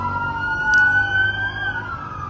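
An ambulance siren wails in a funeral escort with soldiers, a rising and falling tone heard at moderate distance over low traffic rumble, with a brief sharp chirp partway through.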